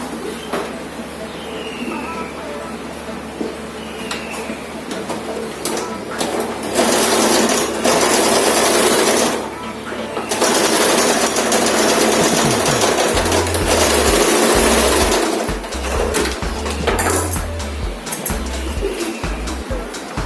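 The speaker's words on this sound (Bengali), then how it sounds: "ভাঁজ করে এরকম করে সেলাই চালাতে হবে।" A sewing machine stitching folded blouse latkan fabric runs in two loud sustained bursts separated by a short pause, while pigeons or doves coo faintly in the background.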